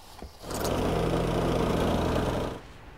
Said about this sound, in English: and then we'll run over it with a tamper.